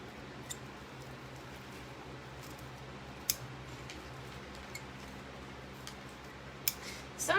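Scissors trimming wreath mesh give a few faint, sparse snips and clicks over a quiet background, with a sharper cut near the end.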